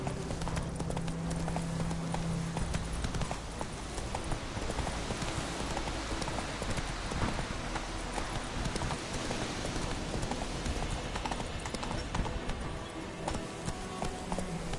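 Steady clip-clop of horse hooves in The Witcher 3, a continuous trotting rhythm close by, with a low rumble of game ambience underneath and a faint rider's voice now and then.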